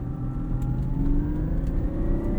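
A 2003 Lexus IS 300 with a manual gearbox revs hard in first gear and climbs in pitch as it accelerates on winter tires, a loud, steady rising whine close by.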